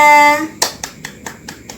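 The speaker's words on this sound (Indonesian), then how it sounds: "Tepuk tangan untuk Mbak Reza" A primary-school class claps for a student who answered correctly; after a sustained tone, a handful of sharp, rhythmic claps ring out close by, evenly spaced like a group clapping in unison.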